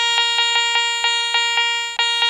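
A metal detector sweeping for silver hammered coins in a Cumbria field gives a crisp, close, repeating electronic tone, pulsing in a steady run of about ten beeps.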